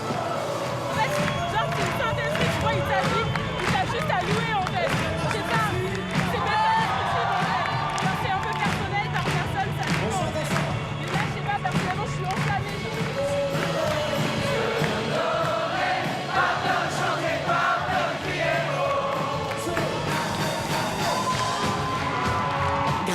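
A dense crowd at an evangelical church service, with continuous loud babble, shouts and cheering mixed with music, steady throughout and close.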